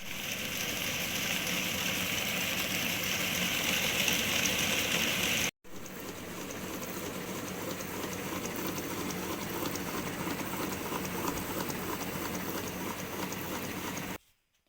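A wet grinder churns ration rice with salt into smooth idli batter, a loud continuous rumbling and rattling drone that cuts out briefly, resumes just as steadily, then stops abruptly.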